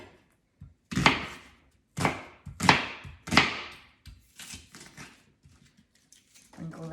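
A knife chops food into chunks on a cutting board while a beef roast is prepared for a big family, with about four firm, sharp strikes and then lighter, quicker taps, close and clear.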